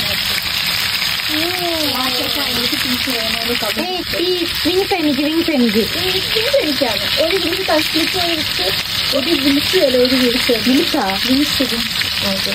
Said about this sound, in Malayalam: നമ്മൾ ചിക്കൻ ഇങ്ങനെ വെന്തുകൊണ്ടിരിക്കുകയാണ്.